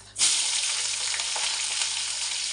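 Onions and split cardamom pods with white cumin sizzle in hot oil in a pan, a loud steady frying hiss bursting in near the start and holding without a pause, no voices over it, while a fish curry is being cooked.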